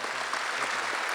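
Brief scattered applause from an audience at an awards ceremony, a dense patter of hands clapping at moderate level for about a second.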